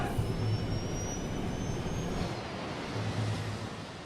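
A Qantas Airbus A380 airliner speeds down the runway after landing, a steady broad roar of engines and rushing air that holds at a constant level throughout with no voices.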